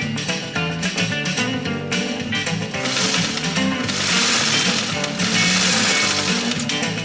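A fully restored black Singer 301A long-bed sewing machine stitches through leather, making a loud, continuous rapid mechanical clatter and hum that grows denser and brighter partway through.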